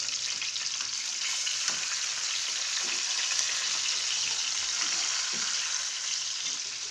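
Pork chops sizzle in a hot pan after flipping, a steady, bright crackling hiss with small pops throughout and no talking.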